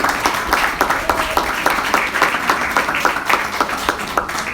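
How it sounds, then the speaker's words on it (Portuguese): A church congregation claps together in praise, a steady run of sharp, fairly loud claps filling the room, with voices faintly mixed in. "louvar ao Senhor com as palmas de vitória para"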